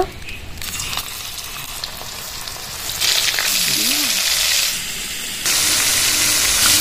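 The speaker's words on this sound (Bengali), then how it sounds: "লোটে মাছগুলো ভেজে নেব।" Coated lote fish (Bombay duck) fry in hot oil with a loud, close, continuous sizzling hiss that swells in stronger bursts partway through, with a brief murmur of voice in the background.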